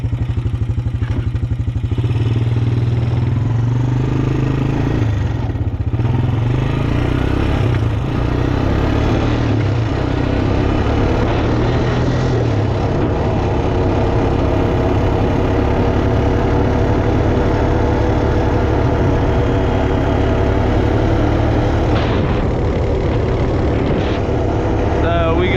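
Rebuilt Honda TRX250TE ATV engine idling close by, a loud, steady rumble with a faint mechanical clatter running unbroken throughout, with voices talking intermittently over it.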